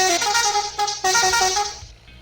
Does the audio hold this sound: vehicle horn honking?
yes